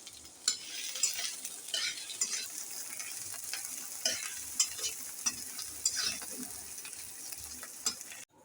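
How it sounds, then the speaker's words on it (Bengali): Dal with ginger paste being stirred in a frying pan: a soft continuous sizzle under repeated scraping clicks and taps of a spoon against the pan, close and fairly quiet. "এবার ভালো করে আমি নাড়তে থাকবো।"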